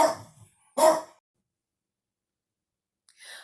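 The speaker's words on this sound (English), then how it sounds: "my dog just started barking" A pet dog lets out two sharp, loud barks close by, separated by a brief pause, then a long silence before a third short bark at the end.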